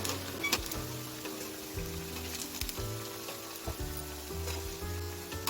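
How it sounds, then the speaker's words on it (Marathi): Rasam vadas deep frying in hot oil until brown, with a dense steady sizzle and bubbling throughout, broken by occasional sharp clinks and scrapes from a utensil, close up and with no speech. "ब्राऊन कलर येईपर्यंत तळून घ्यायचा आहे"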